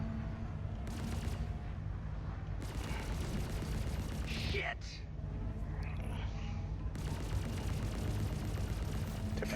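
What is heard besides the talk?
ship weapons firing at bounty target in video game Star Citizen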